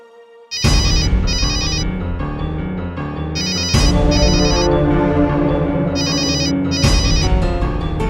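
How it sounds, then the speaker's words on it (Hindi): An electronic phone ringtone trills loudly in repeating bursts, a pattern of rapid chirps cycling several times with no voices. "फोन"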